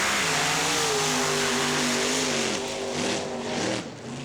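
Drag race cars sit on the line at an NMRO All Star Nationals race, their engines idling and revving loudly for several seconds, with rising and falling engine tones over a roaring background.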